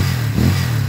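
A 200cc converted motorcycle engine idles with a steady low hum and swells briefly in a short rev before settling back, close and loud.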